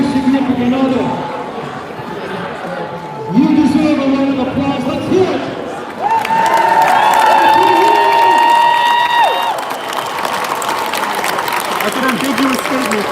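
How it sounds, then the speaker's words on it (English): Crowd at a Back The Blue rally outside Seattle City Hall, applause and cheering with a loud voice over the crowd, some sustained tones in the middle and chatter around. "You deserve a round of applause."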